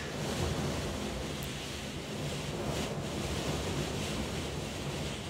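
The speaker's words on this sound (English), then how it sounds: "You can just hear it in the background of the microphone. It is very, it's very windy." Strong wind buffeting the microphone at the Clay Pigeon kart track, a loud continuous rushing roar with low gusty rumble filling the whole stretch, with no talk.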